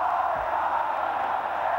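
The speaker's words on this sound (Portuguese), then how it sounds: "Canta satisfeita a torcida do Palmeiras." Palmeiras supporters singing together at Morumbi stadium after a 1999 Campeonato Brasileiro win over Corinthians, a dense, sustained chant from a distant mass of voices with no clear breaks.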